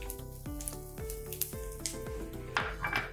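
Curry leaves and coconut sizzle and crackle in hot oil in a pan, with steady frying hiss and occasional sharp pops and stirring clinks, no talking.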